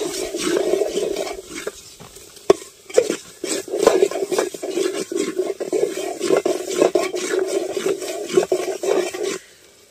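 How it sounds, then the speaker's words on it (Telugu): Tamarind water with turmeric and chili powder is stirred in a pot for a brinjal stew cooked outdoors in a forest, giving a steady close wet swishing with frequent light scrapes and knocks against the vessel, no talk. "పసుపు కారం వేసిన తర్వాత ఇలా అయితే బాగా కలుపుకోవాలండి."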